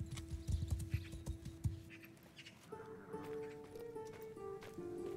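Horse hooves clip-clop in a quick, even rhythm in a video game, then give way to sustained tonal game sounds in the second half, with no talk.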